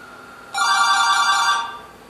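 A standard telephone on a femtocell network rings for an incoming call with one electronic trill, bright and steady for about a second before fading, heard alone without talk.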